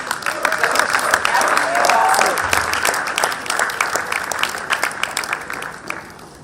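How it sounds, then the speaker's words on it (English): Audience applause fills a conference hall at a career conference, a dense wash of clapping that swells and holds steady throughout, with a few voices mixed in beneath it. "So just give Nnamdi Crescent a round of applause."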